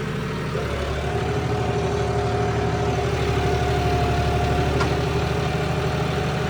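A John Deere 5210 tractor engine idles steadily nearby with a low, chugging rumble that never changes pace, throttle not raised.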